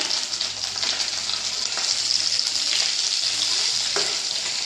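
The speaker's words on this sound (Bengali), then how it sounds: "এখানে আমার মাছটা ভাজা প্রায় কমপ্লিট লাল লাল মতো হয়ে গিয়েছে" Fish pieces fry in hot oil, giving a steady, dense sizzle with occasional soft spatters and stirring scrapes, close and continuous throughout.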